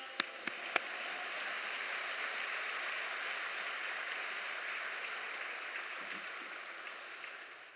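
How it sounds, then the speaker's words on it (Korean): A church congregation applauds to welcome a missionary at a Sunday young adults' joint worship service: steady, fairly distant clapping that holds evenly throughout, with a few sharp individual claps near the start. "큰 박수로 맞이하겠습니다"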